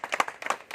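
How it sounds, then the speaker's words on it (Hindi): Brief burst of clapping from a small gathering of sanitation workers welcoming a speaker, a few scattered hand claps over less than a second. "जोरदार तालियों से स्वागत किया जाए।"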